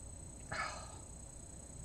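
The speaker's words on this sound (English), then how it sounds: "There goes my dog. He's barking at the neighbors." A household dog barks once at the neighbors from another room, a short muffled burst sitting over a steady background hum.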